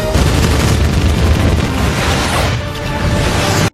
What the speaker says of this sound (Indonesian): Akhirnya tembakan mereka mengenai pesawat Trudy.